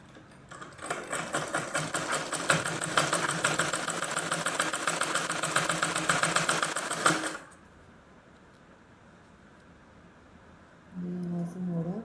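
A sewing machine runs after its hand wheel is turned, with a fast, steady mechanical chatter for several seconds before stopping. A quieter stretch follows, then a voice starts talking near the end.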